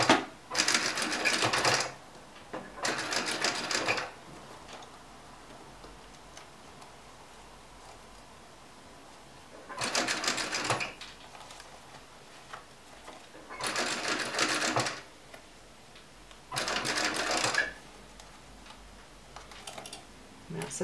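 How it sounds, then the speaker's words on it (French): Sewing machine stitching a round leather or faux-leather pouch close to the edge, running in five loud bursts of rapid mechanical stitching separated by quiet pauses. "On va pouvoir aller coudre ça. Là, on va coudre à peu près à 2-3 mm du bord."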